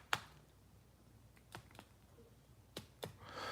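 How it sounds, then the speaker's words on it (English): A vintage Mego doll's jointed legs and arms give a few sharp, quiet clicks, spaced irregularly with short pauses between them, close up in an otherwise quiet room. "So he does have the clicking legs and the clicking arms."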